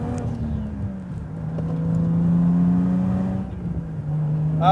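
Toyota Chaser with a turbocharged 1JZ engine revving, a steady loud drone that rises and holds, dips briefly, then climbs again near the end, with no talking.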